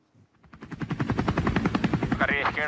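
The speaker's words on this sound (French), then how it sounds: "Voici Pegasus, en plein vol. Un hélicoptère espagnol, unique au monde." Spain's Pegasus traffic-police helicopter in flight, its rotor thudding in a fast, steady rhythm that swells from silence to a loud, continuous pulse.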